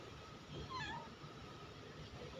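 A cat meows once, a short rising-falling call of moderate loudness over a steady hiss of outdoor background noise.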